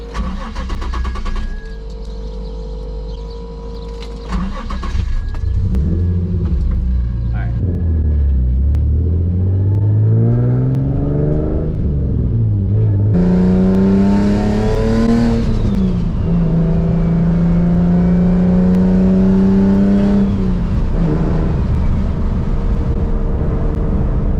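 Boosted 700+ whp Nissan 350z engine revving loudly and rising in pitch through repeated pulls, with a steady heavy rumble and a voice speaking over it early on.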